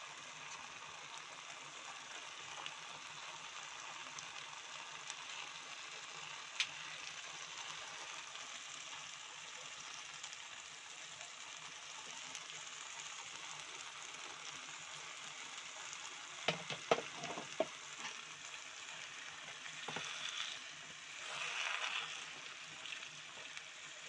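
Eggs frying in a pan for chilli egg curry, a steady, even sizzle that hisses continuously at moderate volume, with a few brief clinks and a short swell in the crackling near the end.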